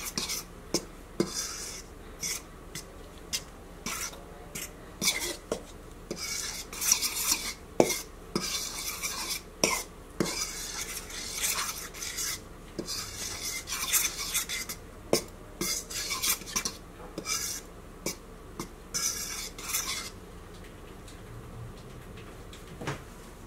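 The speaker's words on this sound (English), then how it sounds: "make sure I mix this all around pretty good" A utensil scrapes and clinks steadily against a bowl as bread dough ingredients, including parsley and other dry ingredients, are stirred together. The taps and scrapes come close and fairly quiet, with no speech.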